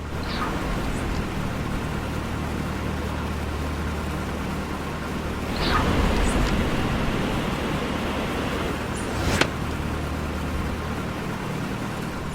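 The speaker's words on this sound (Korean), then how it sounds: "이게 창문이 있는데 창문 열면 엔진 소리가 되게 커요" Cessna 172 engine in an A2A flight simulator, heard with the cabin window open: a loud, steady, rushing drone with a constant low throb, broken by a few brief clicks.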